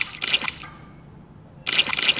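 Bursts of splashing water from a Peppa Pig video game where characters jump in muddy puddles, coming as two short cartoonish splash bursts separated by a quiet gap.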